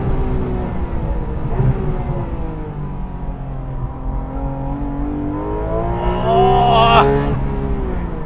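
A Porsche sports car lapping a race track at a track day, its engine note holding steady and loud, then climbing in pitch and swelling near the end before a brief gear-change break.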